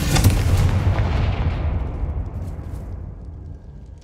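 A Confringo fire spell blast from the Hogwarts Legacy video game: a loud, booming explosion that hits at once and then decays with a long rumbling tail over about four seconds.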